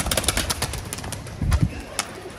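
Caged pigeons coo in low murmuring bursts, mixed with light tapping and rustling nearby against steady background noise.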